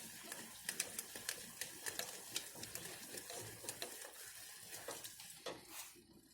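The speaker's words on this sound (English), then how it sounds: "And continue whisking this." Sauce for Greek moussaka is whisked in a pan with rapid, rhythmic metallic taps and scrapes, quiet and steady until the strokes stop near the end.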